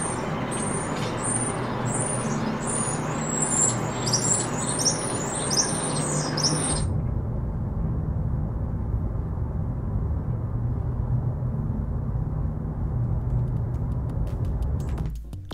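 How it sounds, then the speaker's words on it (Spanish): Birdsong altered to simulate how it would sound on Mars: several seconds of bright, busy chirping over a steady rumble, then an abrupt switch to a dull, muffled low background noise in which the calls almost vanish. "escucharemos pues el sonido de esos pájaros en Marte"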